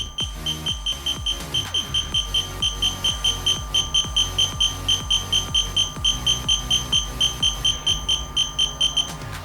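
Eachine EV300D FPV goggles beep steadily while scanning channels, a fast regular series of short electronic tones repeating evenly throughout, close and clear with no talking.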